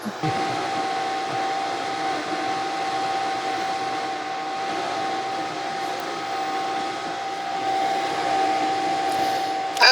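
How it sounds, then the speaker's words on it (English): An ice cream maker churns dairy-free peanut butter ice cream with a steady, unbroken motor whir and a faint whine. The sound holds at an even loudness throughout, with no talking. "and we're churning"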